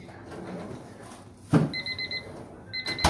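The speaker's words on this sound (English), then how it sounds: "The timer's going off." A kitchen timer goes off while smoked brisket enchiladas cook. Two bursts of rapid, high electronic beeps ring out, and a few soft thumps and a low room rumble sit underneath.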